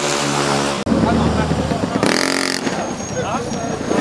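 A 30hp mini bike engine drones and revs at a street race, with loud engine noise running throughout beneath voices talking and shouting nearby.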